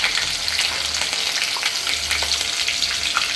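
Chillies frying with garlic in oil over a lowered flame, a dense, even sizzle with small pops and occasional stir scrapes, close and continuous throughout.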